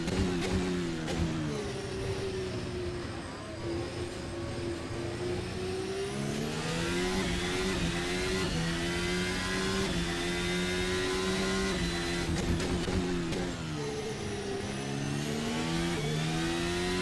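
Formula 1 hybrid race cars lapping the Jeddah street circuit for the Saudi Arabian Grand Prix in Assetto Corsa, engines droning steadily with rising and falling pitch as they accelerate and shift, loud and continuous throughout.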